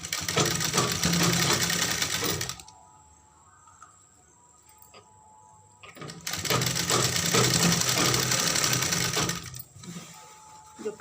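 A sewing machine stitches a four-panel petticoat in two long, fast whirring runs. Between them comes a quieter pause with faint background noise.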